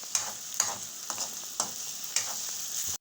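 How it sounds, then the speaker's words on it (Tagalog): Onions sauté in a pan under a steady high sizzle, with a spatula scraping and stirring in sharp strokes roughly every half second; close and fairly quiet, no voices. "Igigisa natin mabuti yung ating sibuyas. Halo-halo lang."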